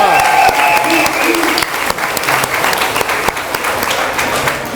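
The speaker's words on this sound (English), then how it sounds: "Let's give a round of applause to the young people and the drummers and everybody" Audience applause at a building dedication ceremony, a dense burst of clapping from a crowd that sustains steadily throughout, with faint voices mixed in.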